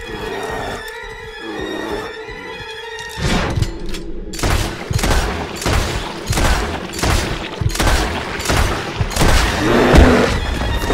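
Rapid six-shooter revolver fire in the Western video game Red Dead Redemption 2, a dense string of sharp booming shots coming every fraction of a second after a quieter opening, loud and close, with no talk.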